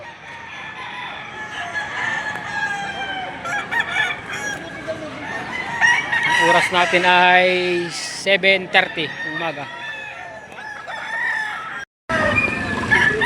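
Roosters crow loudly and repeatedly at a chicken stall, with hens clucking close by. The crowing overlaps someone speaking Filipino, and several calls come one after another in the middle.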